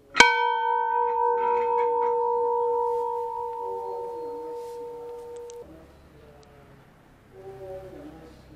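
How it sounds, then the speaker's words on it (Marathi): A large bell at a white marble Shiva temple is struck once, ringing loud and then decaying slowly over about five seconds before it cuts off. Faint ambient noise and murmur from the temple grounds follow. "तर या ठिकाणी एक मोठी घंटा आहे."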